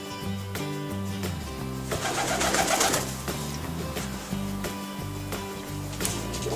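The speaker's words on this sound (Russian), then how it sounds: "голуби снимают пробу" Pigeons coo softly and repeatedly while feeding, the low rolling calls layered over steady background sound at modest volume.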